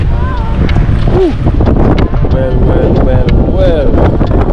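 Strong wind buffets the microphone on a boat in rough conditions, a loud continuous low roar, while people talk and call out over it nearby.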